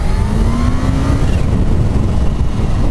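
A Kawasaki sport-touring motorcycle, an H2 SX or ZZR1400/ZX-14R, accelerates hard with a loud, continuous rising engine note and heavy wind roar throughout, no talking.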